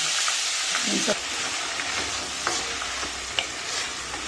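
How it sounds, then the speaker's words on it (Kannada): Hyacinth beans (avarekalu) hit fried onions in hot oil and set off a loud, continuous sizzle up close, with occasional scrapes and taps of a stirring spoon and no speech over it. "ಈರುಳ್ಳಿ ಫ್ರೈ ಆಗಿದೆ. ಈಗ ಈ ಕಾಳು ಹಾಕಿ ಫ್ರೈ ಮಾಡೋಣ."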